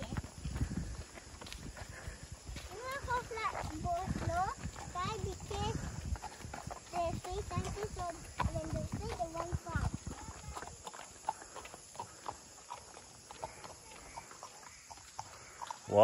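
A horse's hooves clop steadily at close range during a ride at Colmar Tropicale, Bukit Tinggi, with quiet voices and small movements around the slow, uneven footfalls.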